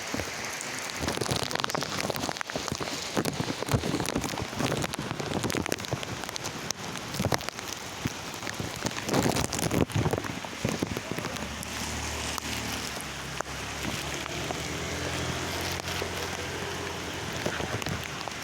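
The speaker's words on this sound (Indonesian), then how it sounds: "hujan-hujanan ini aman, Pan?" Heavy rain pours down steadily outdoors with a dense, loud hiss of drops hammering surfaces, continuous throughout with occasional low rumbling in the background.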